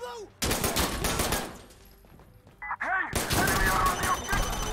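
Rapid bursts of gunfire in Insurgency Sandstorm, loud and close, with dense volleys separated by a brief quieter gap and a voice speaking between the shots.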